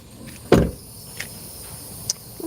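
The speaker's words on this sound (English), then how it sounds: "let me close the door" A door is pushed shut at home, one solid thump followed by a couple of faint light clicks in a quiet room.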